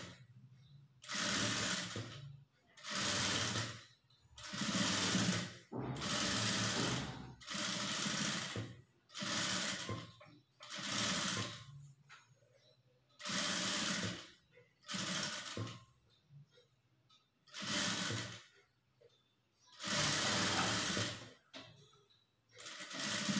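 A sewing machine runs a long stitch along folded blouse fabric in repeated bursts, each a few seconds of steady whirring separated by short pauses, close and loud with no talk.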